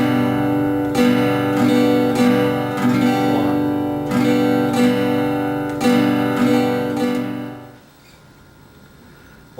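A guitar is strummed close up in a steady, continuous rhythm pattern that restarts without pause. Loud, even chord strokes repeat for about eight seconds, then the sound drops away and rings out faintly, with no talking.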